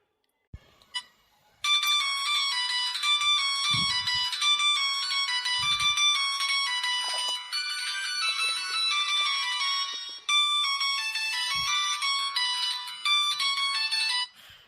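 A mobile phone ringtone rings loud and close, a bright repeating electronic melody that plays almost without stopping for over twelve seconds after a few faint knocks, with one short gap partway through.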